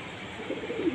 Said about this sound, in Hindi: आप देख रहे कितने बाहर आ चुके हैं कबूतर।